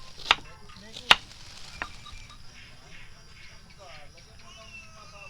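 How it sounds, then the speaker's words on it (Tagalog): A knife slices an onion on a board while cooking at an overnight motorcycle campsite, giving three sharp, sparse taps over a quiet outdoor background with faint voices. "Hinihiwa na yung onion."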